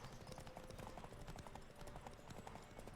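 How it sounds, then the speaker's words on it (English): Rapid, steady clip-clop of horse hooves galloping in the Witcher 3: The Wild Hunt video game, a continuous rhythmic pounding that runs throughout at a moderate level with no speech over it. "My pony is the fastest pony in the land."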